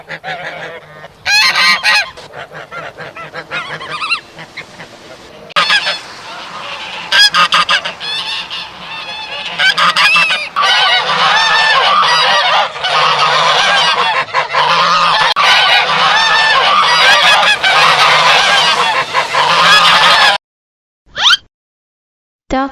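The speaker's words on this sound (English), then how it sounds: "Goose." A goose honking loudly and repeatedly in close, nasal bursts, the calls running nearly continuously with short gaps before cutting off near the end.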